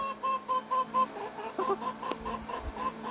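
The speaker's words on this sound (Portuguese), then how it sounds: "Vou criar ela, fazer uma galinha dela." A young chicken clucks in short, repeated bursts, close and fairly soft, with a steady low hum underneath.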